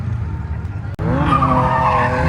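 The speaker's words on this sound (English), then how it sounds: "There's another half hour left of sliding, and they're going to go on a 3-man tandem with Orion leading, AJ in the middle, and Ma" Tires squeal continuously as cars slide through drift passes on a track, a loud sustained screech with engine roar; one of the cars is a stock Subaru BRZ, and a sharp brief dropout comes before the sliding resumes.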